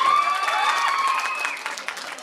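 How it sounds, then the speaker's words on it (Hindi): Audience at a school annual function and talent award ceremony claps in a short round of applause under a sustained tonal hum, fading toward the end. "आप लोग ताली नहीं लगाएंगे?"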